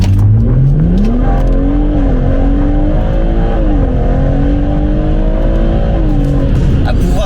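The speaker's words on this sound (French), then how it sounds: "À pouvoir accélérer très fort" A BMW M140i with a limited-slip differential accelerates hard, close and loud. The engine note climbs steadily through a couple of gear changes, with a brief dip in pitch at each shift before it pulls upward again.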